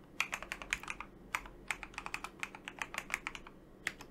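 Rapid keystrokes on a computer keyboard while entering a Linux terminal command, an uneven run of close, crisp clicks with short pauses, no voices.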